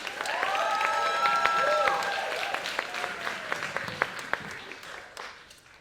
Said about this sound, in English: give it a big round of applause for Lakshmi, our last storyteller.